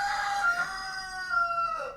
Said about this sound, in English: Still have the rooster inside.